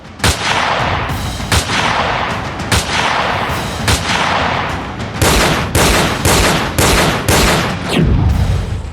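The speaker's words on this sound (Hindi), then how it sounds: "अखाड़े में अंधाधुंध गोलीबारी, 5 लाशें बिछ गई बारी बारी।" Gunfire sound effect in a news report on a shooting at a wrestling arena, heard as loud bursts of repeated shots over a dense rumbling bed, with the shots growing faster and sharper toward the end.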